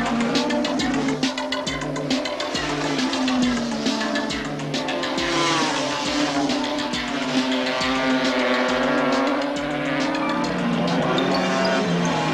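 Race cars at the 1981 Bathurst touring car race roar past in a dense, continuous wall of engine noise, with a broadcast commentator talking over it throughout.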